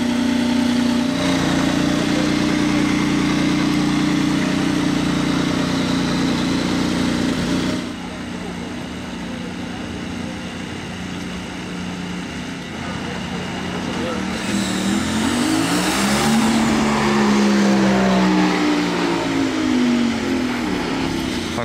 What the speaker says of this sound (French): Il a allumé le moteur V6 de Formule 1